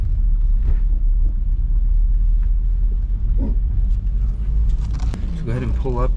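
A stock Nissan 350Z drives and loops around, its engine a steady loud low rumble throughout, with a person talking over it.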